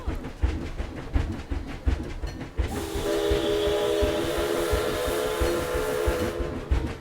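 A train in the Planet Zoo video game, pulling into an Arctic station, clatters along the rails in a rhythmic rumble and then gives a long, sustained horn or whistle blast before the clatter returns.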